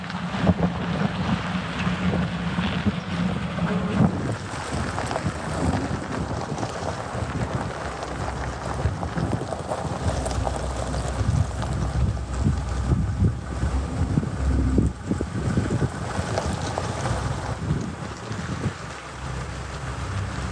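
Car driving along a rough road in Mexico with a camera held out the window, giving steady loud wind buffeting and rumbling road noise throughout, with no talking.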